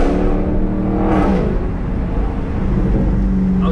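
A car fitted with a Corsa Extreme exhaust revving and accelerating: a loud, continuous, throaty engine drone close by, swelling briefly partway through, with no voices.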